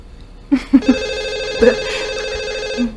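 An early-morning telephone rings loudly and close by with a sustained electronic tone, joined by a few soft knocks and brief sounds, and no speech over it.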